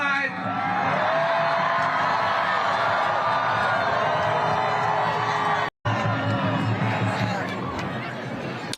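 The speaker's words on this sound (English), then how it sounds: "It's that word genocide really gets the crowd riled up, really gets the people going." An audience at a political speech cheers, whoops and hollers in a loud, sustained roar with scattered shouts. The sound drops out for an instant, then the noise picks back up.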